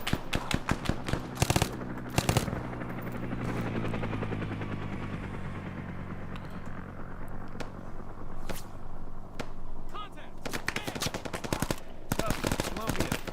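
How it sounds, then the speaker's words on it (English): Helicopter gunships make an attack run in the Arma 3 video game. Rapid bursts of machine-gun fire crackle at the start and end, and a heavy rotor drone sustains through the middle. "Gunships starting their run"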